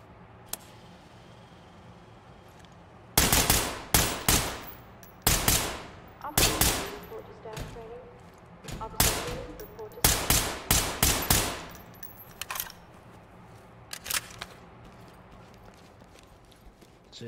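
Gunfire at a shooting range in the Ready or Not video game: several sharp volleys of rapid shots in irregular bursts, loud and close, separated by short quiet gaps.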